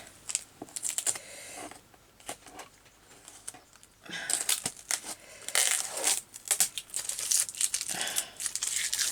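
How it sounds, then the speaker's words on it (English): Sticky tape is handled and crinkled during a craft session: scattered close crackles and rustles in irregular bursts, growing denser and louder in the second half, with no talk. "I have to fix this sticky tape thing here."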